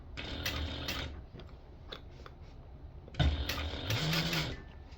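A sewing machine stitches a tote bag in two separate runs of rapid mechanical chatter, close and moderately loud, with a quieter pause of small handling noises between them.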